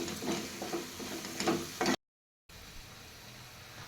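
A spiced besan base with crushed green chilli thecha is sautéed and stirred in a pan, giving a steady, close sizzle with scraping strokes. It cuts off to a brief silence, then returns as a quieter, softer sizzle.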